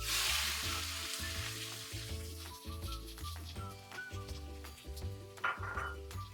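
Onions frying with whole cumin in hot oil for a pomfret curry, a close continuous sizzle under a steady low background hum, with small clinks from stirring and no talk.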